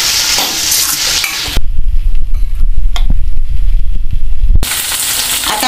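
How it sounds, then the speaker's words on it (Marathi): Tomatoes are stirred into capsicum and potatoes frying in a pan, with a loud, close sizzle and scraping spoon strokes, then a quieter stretch of stirring before the sizzle swells again. "आता मी याच्यामध्ये हे टोमॅटो घालणार आहे आणि आता टोमॅटो आणि हे सगळं आपण मिक्स करून घ्यायचं"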